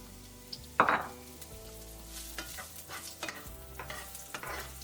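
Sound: onion sautéing in hot oil for crab masala

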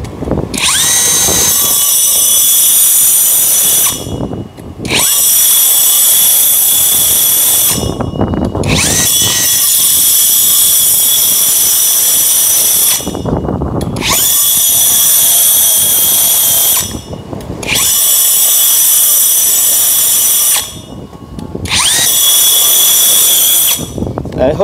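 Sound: Hukan cordless core drill with 60 mm bit drilling wall

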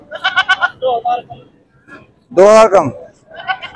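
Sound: goat bleating at livestock market

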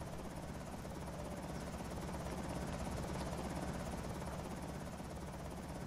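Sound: helicopter flying over in video game Project Zomboid

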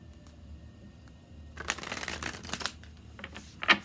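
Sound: shuffling oracle cards

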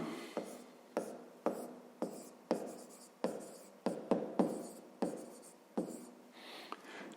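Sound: writing on paper

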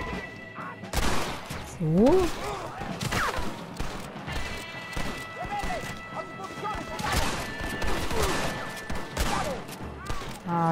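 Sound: gunshots from the video game Red Dead Redemption

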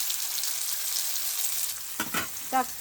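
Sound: onions sautéing in a pan

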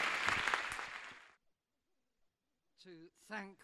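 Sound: audience applauding a speaker

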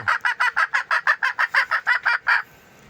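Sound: hen clucking after laying an egg

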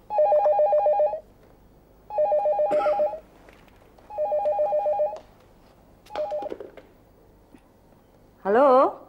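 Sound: telephone ringing

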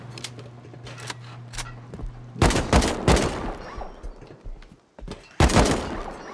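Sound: gunfire in the video game Rust

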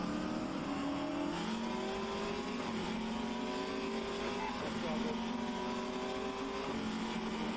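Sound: Chevrolet Camaro engine revving at race start, rFactor 2 video game

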